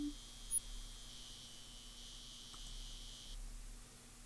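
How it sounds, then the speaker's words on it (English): Cicadas buzz softly in the background of a quiet outdoor night scene in the video game Colonel's Bequest, a faint steady high trill that runs on without a break. "You can hear the cicadas in the background."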